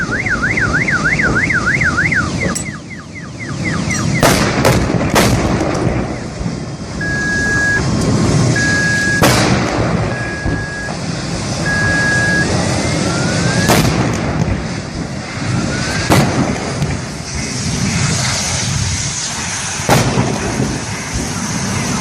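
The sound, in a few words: explosion blasts from a highway accident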